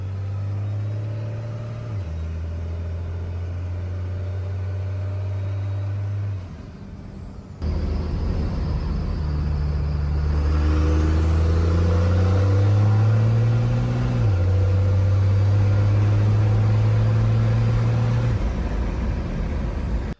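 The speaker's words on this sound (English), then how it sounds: "third gear, converter lock, 1500 RPMs, and I'll just floor it." A Cummins diesel half-ton pickup, with fuel upgrades and its converter locked in third gear, is floored. Its engine drone is loud and steady at first, then surges harder with rising pitch, a brief dip and renewed climb, and no voices are heard.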